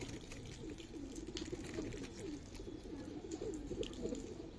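Soft, low cooing of a young pigeon, a repeated gentle warble heard faintly against a quiet background hiss.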